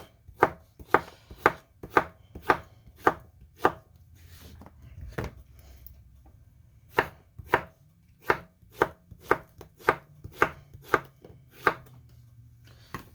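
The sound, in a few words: knife chopping squash vegetables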